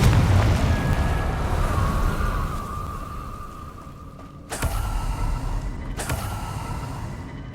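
A Confringo fire spell from Hogwarts Legacy erupts in two sharp explosive blasts over a rumbling, creaking backdrop, the first burst louder and the second following about a second and a half later.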